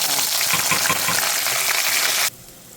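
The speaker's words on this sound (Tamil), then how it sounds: "சின்ன வெங்காயம் கொஞ்சம் பொரிஞ்சிருக்கு" Small shallots with garlic and curry leaves sizzle loudly in hot oil for a South Indian dried fish kuzhambu, a dense steady crackle with a few spoon clinks, cutting off abruptly near the end.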